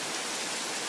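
Heavy rain with strong wind on a late afternoon at a workplace building, heard as a loud, steady wash of dense hiss with no breaks and no voices.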